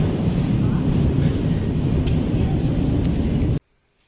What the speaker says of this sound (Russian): Поезд едет какой-то.